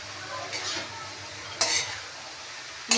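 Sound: stirring ginger in a pan while cooking

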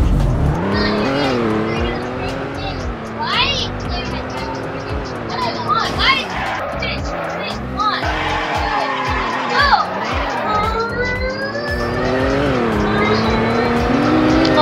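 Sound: car accelerating with tire squeal

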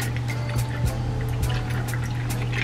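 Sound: pouring cocktail mix into a glass

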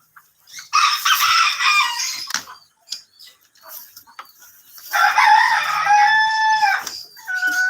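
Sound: rooster crowing

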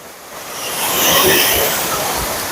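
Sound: waterfall rushing, Mae Ping National Park

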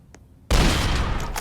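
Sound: gunshot in Roblox Dead Rails video game

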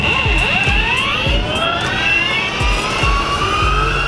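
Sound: Mini S electric skateboard riding at full throttle

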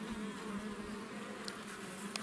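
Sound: honey bees buzzing around hive frames taking sugar syrup

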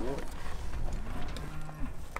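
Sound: cattle mooing while being worked on a ranch

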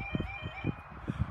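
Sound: level crossing alarm

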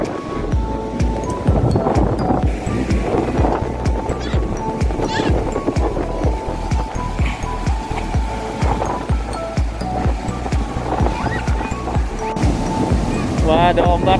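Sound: ocean waves at Parangtritis beach

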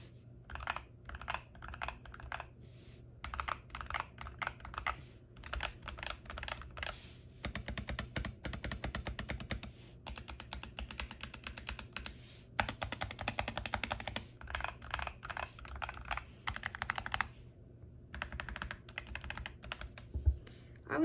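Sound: typing on a computer keyboard on a mouse pad

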